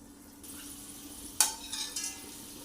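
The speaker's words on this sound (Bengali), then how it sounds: "সমস্ত ছোলার ডাল ভাজার পরে আবার এইভাবে দ্বিতীয়বার ভেজে নিতে হবে" Quiet, steady sizzle of chana dal frying in hot oil, with a few light scraping and stirring clinks from a utensil partway through.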